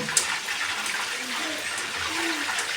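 Steady crackling, bubbling hiss of chicken frying in oil, continuous and close, with a few faint low tones underneath.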